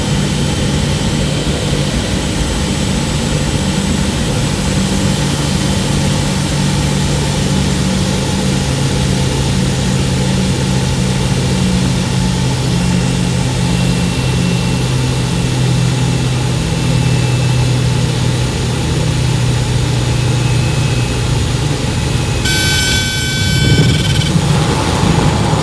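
Steady, loud drone of a Kodiak propeller plane's engine in flight, with a constant low hum and a harsh tone holding throughout. A brief burst of mechanical clatter comes near the end.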